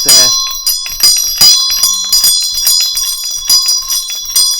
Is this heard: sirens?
no